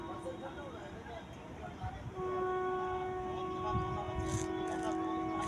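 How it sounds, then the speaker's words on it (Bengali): A train passes on a nearby railway line beside a large hospital parking area near a bridge, its steady rumble joined by a long sustained horn blast in the second half, with a faint voice and outdoor noise around. "সামনে ট্রেন লাইন আওয়াজও পাওয়া যাচ্ছে।"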